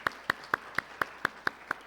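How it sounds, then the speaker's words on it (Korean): A Sunday service congregation gives welcoming applause to a visiting high school principal, teachers and students, heard as eight crisp, evenly spaced claps in a steady unison rhythm. "우리 한번 환영의 박수, 축복의 박수 한번 하겠습니다"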